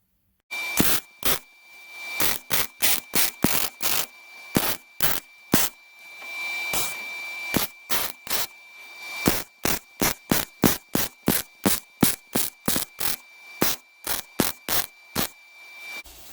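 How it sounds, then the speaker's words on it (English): Welding a trunnion mount onto the rear subframe of an Austin: a long run of about forty short, sharp crackling bursts in quick, fairly regular rhythm, close and loud, with no talk. "Just trying to get the position right. I might do a little bit more fettling because that doesn't look perfectly straight to me, but it might just be the angle I'm looking at it before I weld it up"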